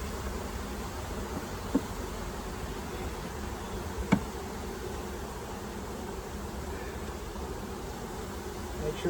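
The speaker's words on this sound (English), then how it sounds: "These bees here fanning with their butts" Honeybees fanning at the entrance of a newly installed hive make a steady, close buzzing drone with a couple of faint knocks.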